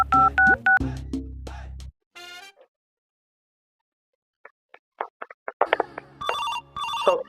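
Telephone sounds in a comedy sketch: a burst of dialing tones, a pause of near silence, then a series of short tone blips building into a loud ringing, close and clear.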